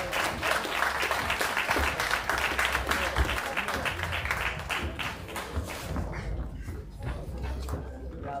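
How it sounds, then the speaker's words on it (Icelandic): Crowd applause at a boxing cup tournament as fighters from Hafnarfjörður and Akranes clubs are introduced, steady clapping that tapers off after several seconds, with a low hum and scattered voices beneath. "Gefið gott klapp."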